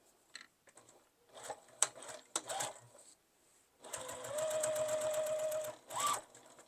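Scattered handling clicks and faint rustles come first, then a domestic sewing machine back stitches along the seam of a fabric iPad case with a close, steady run of about two seconds, followed by a short final burst.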